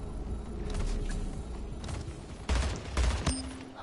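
Gunfire in the video game Splitgate, bursts of shots over a dense background of game noise, with sharper, louder impacts toward the end.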